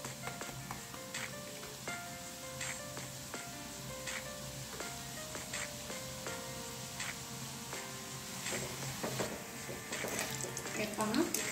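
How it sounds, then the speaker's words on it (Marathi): Bundi batter drops into hot oil and fries with a steady, even sizzle that runs the whole time, with occasional brighter crackles and light tune-like music playing underneath. "अशा प्रकारे ही बुंदी आता आपण तळून घ्यायची आहे।"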